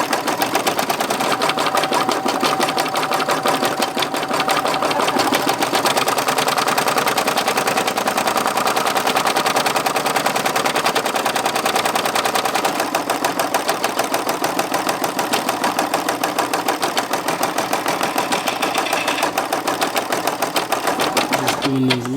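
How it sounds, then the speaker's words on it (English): Embroidery machine running steadily at high speed, stitching satin stitches on a patch, with a dense, fast, even mechanical rattle that stays loud and continuous throughout, no talking heard over it. "Do them satin stitches, they stitch real quick because I don't got to stab a whole bunch of times to lock it down"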